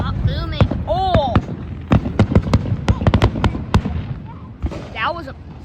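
Fifth of July fireworks boom in a rapid, irregular volley of sharp bursts, some crackling, with excited voices talking and exclaiming over the blasts outdoors.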